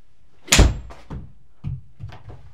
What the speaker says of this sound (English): the sound of the strike and that piston slamming down into the bottom of that shaft should be simultaneously.